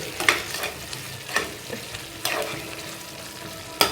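Tomato chutney with coriander being stirred in a pan: a soft, steady sizzle broken by several scraping clinks of the spoon against the pan, heard close with no talking.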